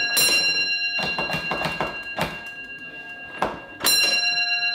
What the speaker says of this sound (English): We obviously talk to the next signal box up the line purely with bell codes